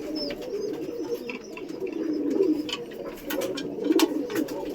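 Pigeons coo in low, continuous rolling calls nearby while a mother pigeon feeds her small chicks, with faint chirps and light knocks scattered over the cooing.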